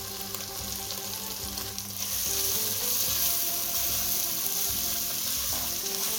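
Ginger and garlic mix hits frying onions in a pan for Réunion pork massalé curry, a continuous close sizzle that swells louder partway through, with light stirring.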